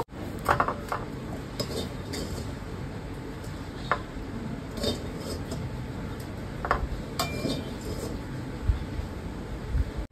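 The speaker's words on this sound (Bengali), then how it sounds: "এবার আমি ঢাকা তুলে ডোটা এই থালায় নামিয়ে নেব।" A pot lid lifted and semolina dough turned out onto a plate while making a quick potato-and-semolina snack, giving scattered light metallic clinks and scrapes of kitchenware over a steady background hiss.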